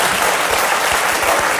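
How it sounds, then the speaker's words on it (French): Studio audience applause on a French television talk show, a dense, steady wash of clapping from many hands at close range, filling the whole short stretch with no voices on top. "je vois pas pourquoi ils applaudissent à un propos, même pas grivois"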